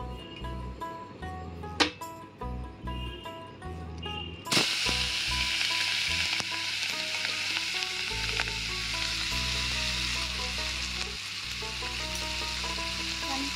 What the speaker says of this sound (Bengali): এবার আমি চিংড়িগুলোকে এর মধ্যে দিয়ে দেব।